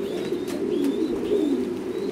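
Thai Titan meat pigeons at a pigeon farm coo in low, continuous, throaty rolls, close and fairly loud, with a few faint chirps from other birds behind them.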